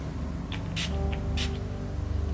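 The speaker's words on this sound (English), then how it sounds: "Where's my setting spray? Okay, there it is." Two short hissing spritzes from a spray bottle, close by, over a steady low hum of background music.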